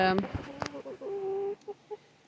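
Young chickens, raised from baby chicks, cluck and call in a backyard coop, with a few short close clucks followed by a longer drawn-out call and a couple of brief trailing notes.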